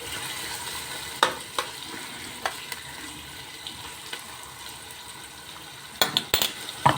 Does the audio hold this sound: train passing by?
no